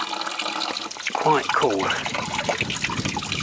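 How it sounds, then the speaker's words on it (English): Spring water on a September walk to Lethra Bay on the Greek island of Tilos, running and trickling steadily at close range, with someone talking briefly over the flow. "it's definitely a spring here, and there we are. The water, here we are."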